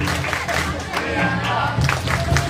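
Students at a school book-week storytelling competition in Jakarta do a 'tepuk diam' clapping routine, with patterned group clapping in short rhythmic bursts over crowd chatter and a sustained music hum.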